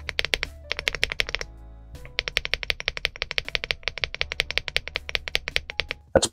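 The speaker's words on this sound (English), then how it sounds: "that's probably the best stock plastic spacebar that I've heard" Rapid typing on an Aula F75 Pro mechanical keyboard with a stock plastic spacebar: a dense run of crisp, close keystroke clacks in quick uneven rhythm, with a short pause partway through, heard alone without talk.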